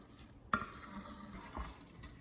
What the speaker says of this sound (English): You just listen to the texture every time I stir it here.